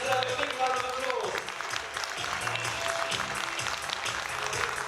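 Audience applause at the 20th Sesame's Awards ceremony, dense clapping from a crowd filling the whole stretch, with a voice talking over it at the start.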